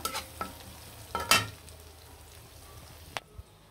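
Onions fry in a pan for chicken noodles, with a low steady sizzle broken by a few sharp stirring scrapes and clicks near the start and a couple more toward the end.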